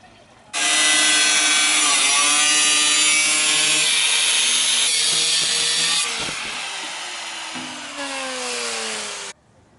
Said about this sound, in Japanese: これ水全部溜まったらグラインダーで切り取ります。